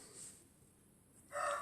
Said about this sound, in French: Je fais entendre mon coq, je ne sais pas si vous allez l'entendre dans la caméra.